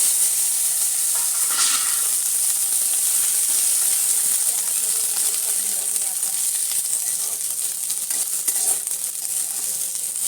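Capsicum hitting hot oil in a pan for a curry sets off a loud, continuous sizzling hiss. It stays steady throughout, with occasional clinks and stirring scrapes.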